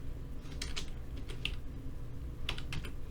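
Typing on a computer keyboard comes in short bursts of soft, close keystrokes, with a couple of sharper key hits standing out against a low room hum and no voices.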